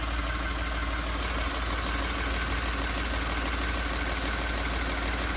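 A 2012 Ford F-150 EcoBoost engine, fresh from an exhaust manifold gasket repair, idles steadily with a dense, even mechanical hum and faint ticking, running alone close by without any voices.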